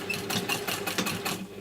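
A sewing machine stitches briefly forward and back to secure a corner on a PU trim case, a close rapid rhythmic chatter with quick pulses.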